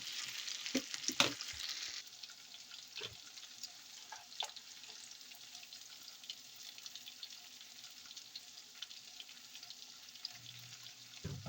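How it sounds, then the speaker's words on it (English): Vegetables and salt mackerel sauté in a pan for a Jamaican dish, a steady close sizzle with stirring clatter and a few sharp utensil knocks near the start, no voices. "So I'm gonna saute this up and add the picked up salt mackerel to this."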